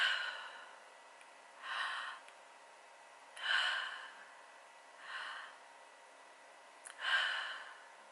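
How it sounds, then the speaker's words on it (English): Three slow, deep breaths taken in a calm setting, each a soft airy rush rising and fading, evenly spaced with quiet gaps between, close and gentle. "take 3 deep breaths"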